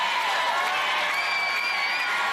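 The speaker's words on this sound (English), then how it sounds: "The crowd chanting her name as she starts the doorknob drop" A live arena crowd roars and cheers without letup at an American Ninja Warrior finals in Los Angeles as a competitor begins an obstacle, with no chant rhythm clearly separable from the steady wash of voices.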